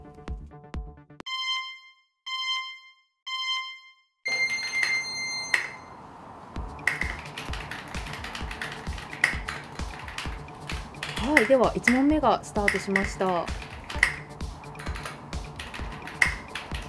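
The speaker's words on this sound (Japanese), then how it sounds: "磯さんのキーボード音がすごいですね。" Rapid clacking of a custom-built mechanical keyboard with brass inside runs under a talking voice, following a few electronic beeps and chimes at the start.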